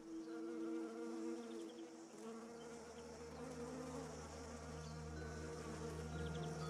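Honeybees buzz around flowers in a fruit orchard, a steady dense drone of many insects at moderate distance, continuous and unbroken with no voices.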